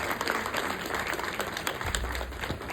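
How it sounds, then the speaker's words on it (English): An audience applauds at a live event with dense, steady clapping throughout, fairly loud and continuous, with a faint low rumble near the end. "Give her a round of applause."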